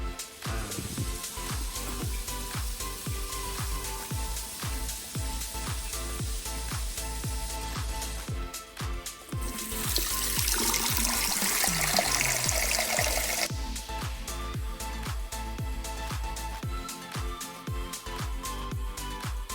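Water flows from a tank into the head of a PMA-300 smart water pump through an opened valve, a steady rushing trickle with a louder surge midway and rhythmic ticking throughout.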